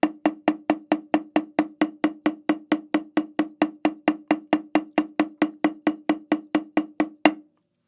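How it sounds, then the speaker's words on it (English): A drum warm-up of eight strokes per hand, alternating hands, plays as a long run of about thirty crisp, evenly spaced hits at a steady tempo, close and dry with no talk, ending in one slightly louder stroke. "This is 8 on a hand, where we play 8 strokes with one hand and then alternate to"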